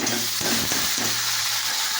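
Potatoes fry in a pan with panch phoron and bay leaf, giving a steady soft sizzle with a few stirring scrapes and knocks, fairly quiet and close.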